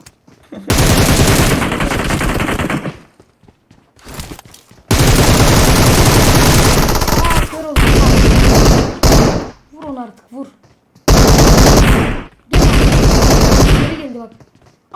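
Automatic gunfire from the mobile battle-royale game PUBG Mobile rattles out in several long, loud bursts separated by short gaps, with a few single shots and brief thumps between them.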